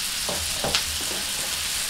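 Steady hiss of asparagus sizzling in a hot frying pan, with a few soft scrapes and clinks as pieces are turned over.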